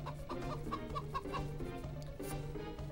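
Chicken clucking in the video game Dark Cloud: a run of short, rhythmic clucks over a steady low game-music hum, fairly loud and close, with no voices.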